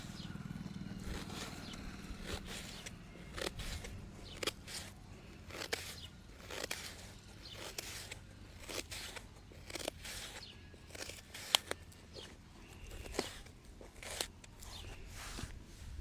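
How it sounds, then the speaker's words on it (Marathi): An onion is finely chopped with a knife, producing a close series of quick, irregular taps of the blade against a cutting board that carry on throughout against low room noise. "आपण कांदा असा बारीक कापून घेणार आहे."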